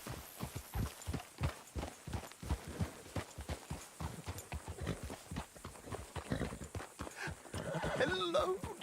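A horse in Red Dead Redemption 2 clip-clops at a steady gait, hooves thudding rhythmically and close, with a whinny and snorts toward the end.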